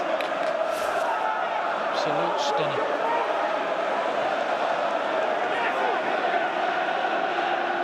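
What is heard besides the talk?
football fans cheering in stadium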